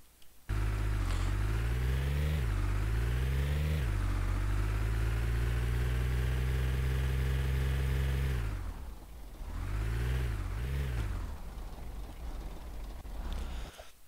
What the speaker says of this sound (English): Parking my truck here.